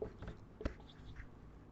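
A pen scratches across paper as a word is underlined and new words are written. The quiet, close scratching comes in short strokes with one sharper tap near the middle.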